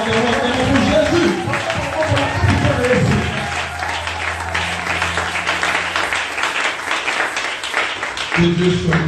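Church congregation claps and cheers in acclamation for Jesus, dense sustained applause filling the room with voices and a sung or held tone running beneath it, then louder again near the end.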